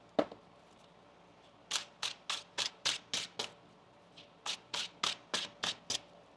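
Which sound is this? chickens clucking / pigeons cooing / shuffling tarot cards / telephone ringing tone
shuffling tarot cards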